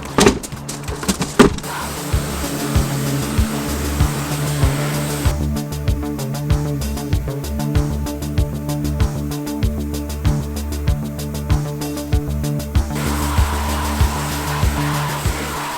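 A pressure washer blasts dirt and grit off an alloy car wheel, spraying the face and the inside of the rim. It makes a continuous harsh, hissing roar with uneven bursts and clicks as the spray shifts across the metal.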